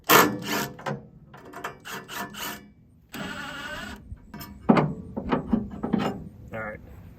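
Wrenches work loose the bolts holding a wood chipper blade, giving repeated metallic ratcheting, scraping and clanking in short uneven bursts, close and fairly loud, with one longer continuous grinding rasp in the middle.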